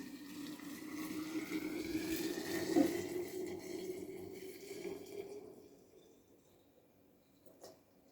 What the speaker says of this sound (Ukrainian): Далі заливаємо окропом.